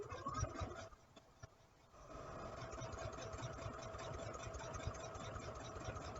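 Sewing machine stitching a seam on a raglan nursing T-shirt, a steady close mechanical whir and rapid needle rattle that pauses briefly near the start, then runs continuously with no talking.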